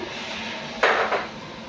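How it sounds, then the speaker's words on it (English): Raw sausages drop into a frying pan of still-cold oil for shallow frying, giving two short, fairly close clunks about a third of a second apart against a quiet kitchen background. "So for this one I'm going to put in the sausages."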